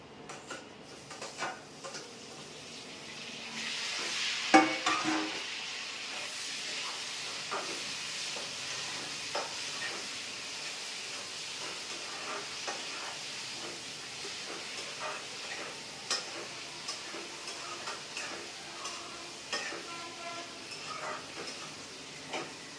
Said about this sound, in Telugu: ఇప్పుడు టమాటాలను కూడా వేసి ఒక 2-3 నిమిషాలు మూత పెట్టి అయితే మగ్గించుకుందాము